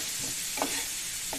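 Potato pieces frying in plenty of oil for a crispy alu fry, a dense, even hiss with a couple of faint stirring clinks.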